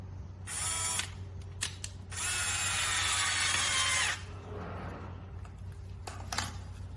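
A power drill driver buzzes in two sustained runs driving a screw into a WPC beam, separated by clicks and handling knocks, ending with brief taps.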